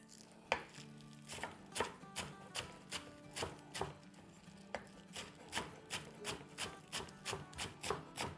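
A knife chops green onion on a cutting board in a home kitchen, making quiet, close, crisp regular knocks at roughly two per second, continuing steadily without talk.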